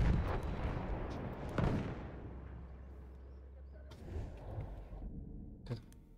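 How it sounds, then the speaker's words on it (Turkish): A tank explosion in the video game Battlefield 1 booms as a deep, rumbling blast, followed by a long low roar and further sharp impacts, with muffled voices present. "Havaya uçurdu tank beni."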